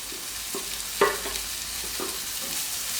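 Spinach stalks fry in a pan with a steady soft sizzle, and a few light stirring scrapes and knocks rise above it.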